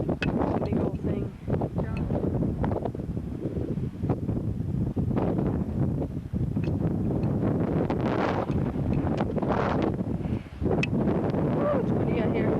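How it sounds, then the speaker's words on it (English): Strong wind buffets the microphone outdoors at a meteorite crater, roaring in gusty rumbling surges, with people talking faintly beneath it. "it's windy out here."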